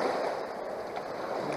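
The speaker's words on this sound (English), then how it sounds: "Waves are starting to piss me off though." Water waves lap and wash steadily at the edge of a stream or shore during gold panning, making a continuous broadband rush with no pauses.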